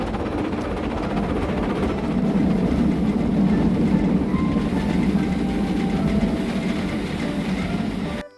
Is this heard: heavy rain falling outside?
no